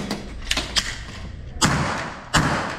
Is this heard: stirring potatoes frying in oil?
no